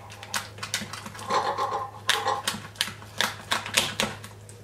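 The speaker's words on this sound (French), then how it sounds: "plus c'est difficile de couper la carapace" A spiny lobster tail shell is cut in half, giving a close run of crisp, rhythmic crunching and cracking snaps that come in quick bursts over a low steady hum.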